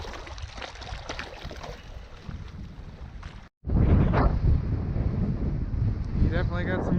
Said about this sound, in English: You definitely got some wind here today.